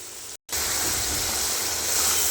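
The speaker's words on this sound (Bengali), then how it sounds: "পেঁয়াজ আর টমেটো এটা ছেড়ে দেব। 2 থেকে 3 মিনিট এটা একটু কষাবো আগে" Onion and tomato frying in a pan for a prawn malai curry, a steady loud hiss of sizzling that runs almost without break after a brief silent gap near the start, with no voices.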